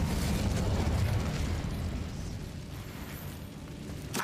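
The Incendio fire spell cast in Hogwarts Legacy, a loud, dense roaring burst of flame and blast noise that starts at full strength and slowly tapers over a few seconds, ending with a faint crackle.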